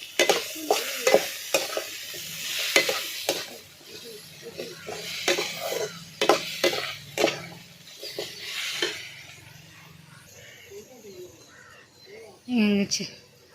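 Eggs are stirred and fried into a carrot stir-fry, with uneven scraping and clattering of a spatula over a soft sizzle, while people talk nearby.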